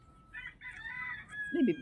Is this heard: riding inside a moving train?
no